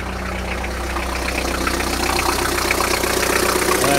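A 1998 Vauxhall Frontera 2.5 TDS diesel idles after a cold start, a steady close-up clattering rumble with a low throb and knocking rhythm, slowly building slightly in loudness with no talk over it.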